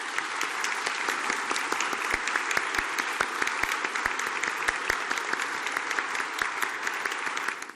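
A hall full of people applauds at the formal installation of Mexico City's anticorruption coordinating committee, dense and sustained clapping with distinct individual hand claps throughout, fading at the very end.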